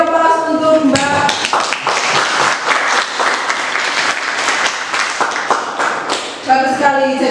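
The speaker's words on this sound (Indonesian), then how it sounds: "Beri aplaus untuk Mbak." A classroom group applauds a student with a burst of dense, close clapping that lasts several seconds and then fades as brief talk returns at both ends.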